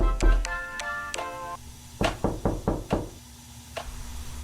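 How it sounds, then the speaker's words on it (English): Knocks on a door, a sound effect in an analog horror video: a series of sharp, close raps, some ringing briefly, then a quicker cluster of knocks and one last faint tap against quiet background noise. "Then, out of the blue, we hear a knock"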